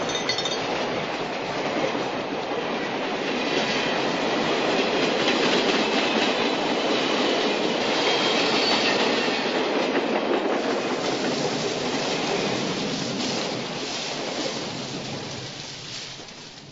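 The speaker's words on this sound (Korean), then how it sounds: "철로변에 깔린 낙엽을 흩날리면서 지나가는 기차 소리를요." A train rolls past on rusty rails beside fallen leaves near a small-town cafe, a long, dense, steady rumble with clickety-clack and a rain-like hiss that swells and then slowly fades, with no voices.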